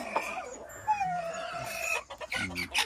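Native chickens with very young chicks cluck in short, busy bursts, with higher peeping calls mixed in, fairly close and continuous.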